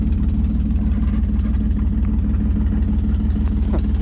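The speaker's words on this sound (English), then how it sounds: "I'd idle it all the way down there" A Toyota Land Cruiser FJ62 engine idles, a loud, steady low rumble with a constant, even throb and no revving.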